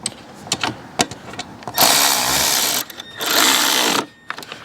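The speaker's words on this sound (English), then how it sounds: "Now let's get our ratchet. And we're just gonna send it home." A powered ratchet drives a bolt home on a 2700 PSI Troy Bilt pressure washer, giving two sustained, loud whirring bursts close by, with scattered clicks and knocks before and between them.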